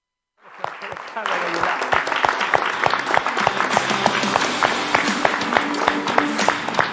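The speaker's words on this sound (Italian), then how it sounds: "questo è un applauso non solo al Real Betis Rapallo per la promozione" An audience breaks into sudden, sustained applause for a sports club's promotion during a local sports broadcast, dense steady clapping that starts sharply and continues at even loudness to the end.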